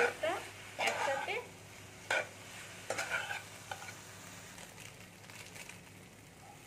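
Potatoes and carrots coated in turmeric are stirred in a pan, giving a soft, quiet sizzle with a few bursts of scraping and clattering from the spoon in the first few seconds, then a faint steady hiss.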